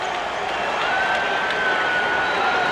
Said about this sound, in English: The applause is for Coleman